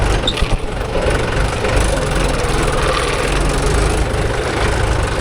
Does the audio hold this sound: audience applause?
no